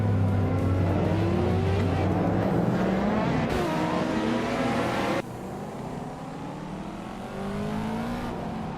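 Race cars, a Ferrari among them, scream around a track in a racing game, engines revving with rising and falling pitch. The sound is loud and continuous, broken by abrupt cuts between shots.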